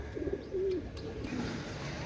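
A Pakistani Imamdin pigeon gives soft low coos, a couple of short rolling calls close by against a quiet room background.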